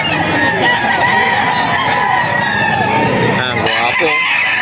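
Roosters crow repeatedly over steady clucking and fowl calls in a busy farm yard of stag and bull stag roosters, the birds close and loud throughout.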